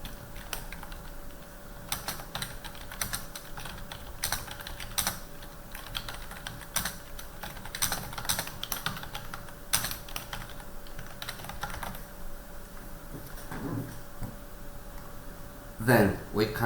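Typing on a computer keyboard, a steady patter of soft key clicks in a quiet room with a faint constant hum, ending with a brief louder clatter.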